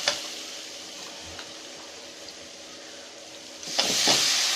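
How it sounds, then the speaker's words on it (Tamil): Steady frying sizzle as masala sautés in a pan for potato kurma, with a few scraping stirs and a louder burst of sizzling near the end. "நல்லா பச்சை வாசனை போகிற வரைக்கும் நல்லா வதக்கிக்கலாம்"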